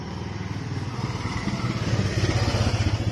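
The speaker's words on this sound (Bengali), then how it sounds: "এদিকে বাইক আসছে" A motorcycle engine putters close by in a narrow lane in Kendua Patuli, South Kolkata, its rapid pulsing growing louder as it approaches through a dense steady background.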